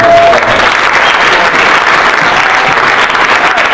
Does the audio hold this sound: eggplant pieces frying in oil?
no